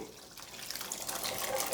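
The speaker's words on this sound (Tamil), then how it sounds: "வேக வச்சு வச்சுருக்க வெள்ளை சுண்டக்கடலையை இப்போ சேர்த்துக்கிறேன் இப்போ வேக வச்ச தண்ணியோடு தான் சேர்த்துக்கிறேன்" Boiled white chickpeas and their cooking water pour into a pan, a short, soft liquid splash and trickle close by.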